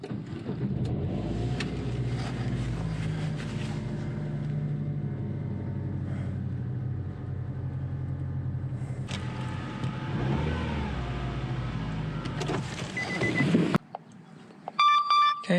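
A 2012 Nissan Juke starts up after a roadside rescue and settles into a steady engine rumble, revving up around the middle before a sudden cut to several short electronic beeps at the end.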